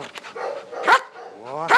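A police dog barks twice on cue, sharp and close, each bark following a short spoken command from a person.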